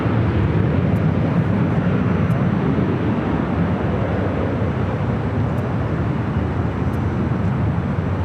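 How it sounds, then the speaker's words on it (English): A four-year-old JetBlue Airbus A321neo arriving at LAX from JFK, heard as a steady, unbroken broadband jet roar that holds at a constant, fairly loud level throughout. "Next arrival is JetBlue Flight 223 coming in from JFK."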